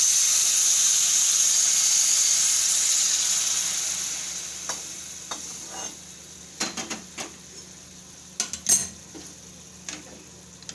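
Hot pasta water is poured into a pan of sautéed vegetables. A loud, steady hiss and sizzle fades over a few seconds, then quieter bubbling follows with sharp clinks of a utensil stirring against the pan.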